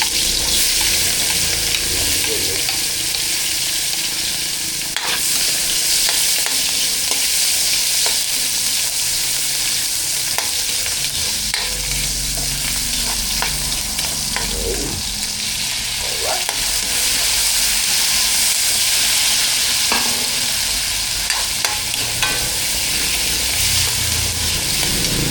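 Onion and tomato fry in a pan for a simple breakfast, a steady loud sizzle with occasional stirring scrapes and clinks layered over the constant hiss.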